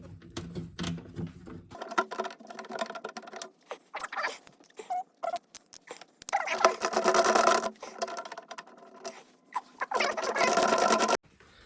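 Ratcheting and clicking of a 10 mm socket loosening skid plate bolts on a 2022 Honda Pioneer 700, in quick bursts of close, rapid clatter with short pauses between.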